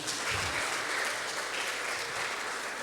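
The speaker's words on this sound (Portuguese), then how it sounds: "aplauda Jesus" A church congregation at a Sunday service bursts into steady, dense applause, a continuous crowd clapping that fills the room for a few seconds with no talking over it.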